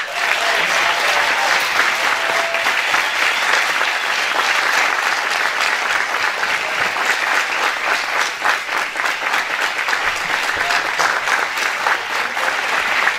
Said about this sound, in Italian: accogliamo con un grande, grandissimo applauso Stefano Demo.